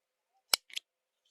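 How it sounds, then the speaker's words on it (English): Two sharp metallic clicks of scissors closing, close up and isolated, the second a quick double snap. "those are my favorite pair of scissors, because I like the click they give"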